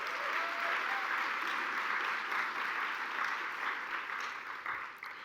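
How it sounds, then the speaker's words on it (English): An audience applauds an advisory council of young people at a university talk on the secular and the sacred in higher education, a sustained crowd clapping that thins slightly toward the end, with faint voices beneath. "We can give them a round of applause."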